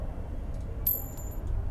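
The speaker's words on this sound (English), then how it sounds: "Oh, coin!" Coin being picked up in the video game Disco Elysium, a single bright metallic clink near the middle over a low quiet background hum, short and crisp.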